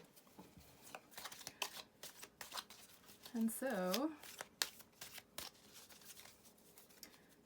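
Tarot cards being shuffled by hand, soft papery riffles and slaps scattered under a woman's quiet speech, with a brief voiced sound in the middle.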